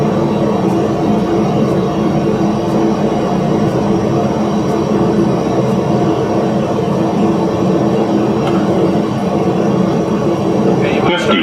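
An airplane lands on a runway, a continuous, loud roar of engine and rolling noise from inside the aircraft, steady throughout, with a faint clunk near the end.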